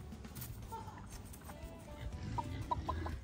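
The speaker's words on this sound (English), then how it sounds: "So we finally let out our juvenile chicks." Juvenile chicks cluck on a farm outside the coop, with several short soft clucks and peeps at moderate distance over low outdoor background noise.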